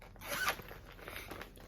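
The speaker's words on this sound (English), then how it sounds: "Hold on, I have a zipper." A clothing-style zipper on a cross-stitch project bag or pouch is pulled open in one quick, quiet zip, close by and alone without talking.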